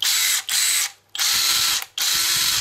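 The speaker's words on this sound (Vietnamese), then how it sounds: "Đây là một con vít búa chạy khá là ổn." A Makita 14.4V brushless impact driver, converted to a clip-on battery pack, runs in three loud, steady, whirring bursts with short pauses between them.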